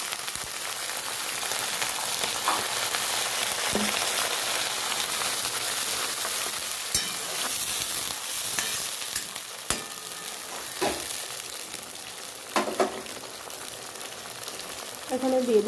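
Water poured onto onions already fried red in a pan, raising a loud hissing, crackling sizzle like rain on a surface that continues steadily, with occasional pops and a voice talking over it.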